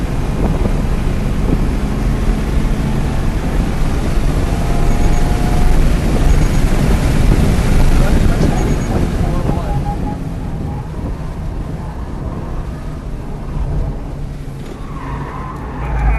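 Race car lapping a track with a loud, continuous engine roar and buffeting wind rush that swells then eases into a lower drone, heard from inside the car.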